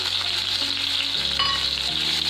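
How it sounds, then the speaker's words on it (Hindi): A paste of onion, garlic, ginger and chili fried in hot oil, a loud continuous close sizzle with occasional stirring, steady throughout and no voices. "अच्छे तरीके से भून लेते हैं।"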